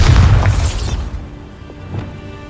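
A Bombarda explosion spell from Hogwarts Legacy lands with a heavy, loud boom that quickly dies away into softer rumbling, with a couple of faint thuds after it.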